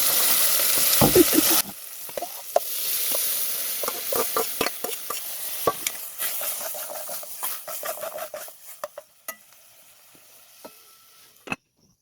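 Aromatics sautéing in a pan for a rural-style mung bean dish, a loud sizzle at first that settles into scattered crackles and spatula scrapes, close by, fading toward the end with no talking.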